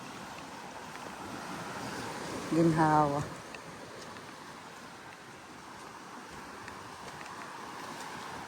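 Sea waves wash steadily onto a bayside beach at Ybarrs by the Bay, a constant soft rush blended with wind noise, with brief talk near the start.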